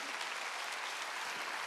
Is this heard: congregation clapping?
yes